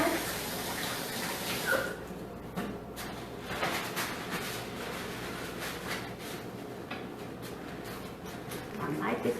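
Hands are washed under a running kitchen tap, a steady rush of water with soft splashing and rubbing, continuous through the whole stretch.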